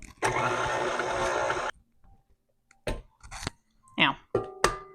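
A stand mixer with a paddle beating gingerbread cookie dough after an egg goes in runs loudly for about a second and a half and then stops, followed by a few short clicks and scrapes.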